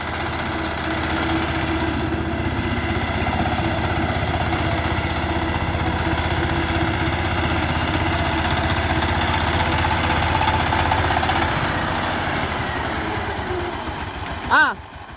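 A tractor engine with a newly fitted set of piston rings runs steadily while ploughing a field, a close, continuous droning rumble with an even pulse, ending in a brief louder burst.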